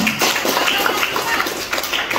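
Pupils clap together for a classmate during an Indonesian-language class on word affixes. The applause is brief and evenly dense, with a few louder claps standing out near the start and end.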